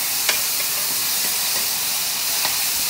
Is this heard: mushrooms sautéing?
yes